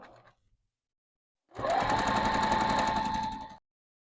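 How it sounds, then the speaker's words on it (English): A sewing machine stitches a long quilt seam, running at a steady fast whir for about two seconds after a short pause, then stopping abruptly. "I'm just going to sew this long seam together."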